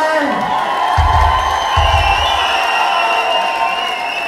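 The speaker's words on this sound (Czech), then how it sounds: "Ještě jednou jim pořádně zatleskejte!" Applause and cheering from the crowd at a Czech secondary technical school's graduation ball in Tachov, a loud, dense roar with whoops and shouts that runs steadily throughout, marked by a couple of low thumps near the start.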